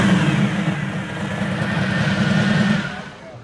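A Lincoln car's engine revs at a car meet, a steady mid-pitched hum that swells a little and then drops away near the end, with no talking.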